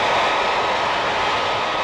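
A giant Air Force jet at Buffalo Airport during a National Guard snow-removal airlift produces a loud, steady engine roar, a dense unbroken rush of noise that stays constant throughout without any voices.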